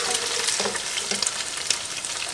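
Bacon frying in oil with onoto, a steady bright sizzle and crackle with a few soft stirring scrapes, close and continuous without speech.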